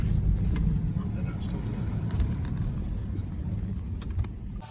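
Ford Falcon AU engine revving as it accelerates, a deep continuous rumble held steady throughout, with faint clicks and a voice underneath.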